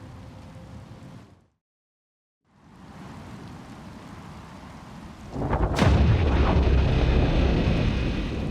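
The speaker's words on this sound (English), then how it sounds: "That is a very large explosion" A huge explosion in the game Caravan SandWitch: after a rumbling buildup and a brief silence, a heavy roaring blast hits and keeps thundering, loud and close.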